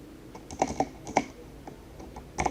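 A computer keyboard is used to type a Metasploit console command. A handful of soft, close key presses arrive in uneven taps over a quiet background, and nobody speaks.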